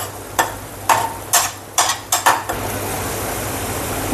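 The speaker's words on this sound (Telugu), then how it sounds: "టమాటాలు వేస్తున్నారు." Tomatoes going into frying mutton keema curry, Chennai style, with several quick scraping stirs and knocks against the pan in a short irregular series, followed by a steady low sizzle.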